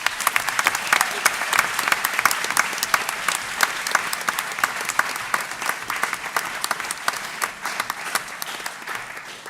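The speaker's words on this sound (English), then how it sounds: "Please give them a round of applause." An audience at a board meeting gives sustained applause, a dense, even patter of many hands clapping that tapers slightly toward the end.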